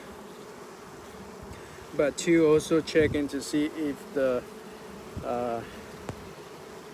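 Honey bees swarm around an open hive during an inspection, their buzzing swelling up close in bursts and fading, while someone talks over them.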